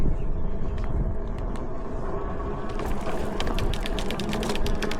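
Mechanical clicking and ratcheting from an Engwe Engine Pro 2.0 folding e-bike as it shifts gears, with rapid ticks over rolling road noise, picking up toward the end.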